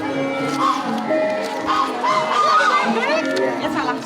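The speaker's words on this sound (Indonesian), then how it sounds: "Angsa banyak." A large flock of geese honking loudly and continuously at a Buddhist temple site turned tourist spot in Bejijong village, Mojokerto, with overlapping calls and faint crowd voices behind.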